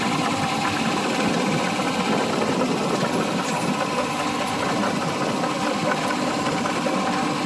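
A Komatsu PC07-2 mini excavator's engine idles in a steady, loud, even drone with a constant mechanical rattle throughout, close by and with no talking.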